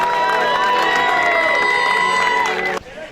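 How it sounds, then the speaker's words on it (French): Crowd cheering and shouting for a runner at the Marathyonnaise 2016 nature race, a loud sustained roar with whoops that cuts off sharply near the end. "Stéphanie Chauvelet, sous vos applaudissements."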